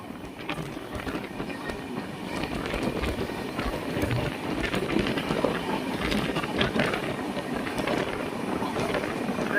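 The Sikkim Mahananda Express, train 15483, runs through the Duars toward Hasimara station, a steady loud rumble and rattle of wheels on rails heard from inside the coach, continuous throughout.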